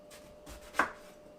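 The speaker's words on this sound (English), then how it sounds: "I'm going to cut these in pretty big chunks." A knife cuts eggplant into big chunks on a cutting board in a home kitchen, a few soft strokes ending in one firm, close chop.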